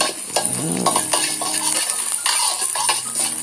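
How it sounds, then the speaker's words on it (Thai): Crushed garlic, four or five cloves, is stirred into hot oil in a wok while a spatula scrapes and clinks against the metal, all over a steady bright sizzle, close and fairly loud, with no talking. "ตั้งกระทะนะครับผมแล้วก็ใส่น้ำมันสำหรับผัดลงไปนะครับ ตามมาด้วยกระเทียมทุบนะฮะ 4-5กลีบนะครับ"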